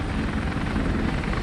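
A helicopter's rotor thrums steadily in a movie scene from The Cable Guy, a continuous low whirring drone heard alone.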